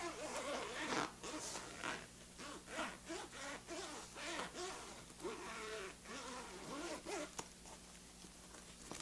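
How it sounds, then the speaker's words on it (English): Zipper on a Donner guitar gig bag being worked along its track in repeated short pulls, close and fairly quiet, snagging slightly in places, with faint rustling of the bag between strokes. "Okay, checking the main zipper."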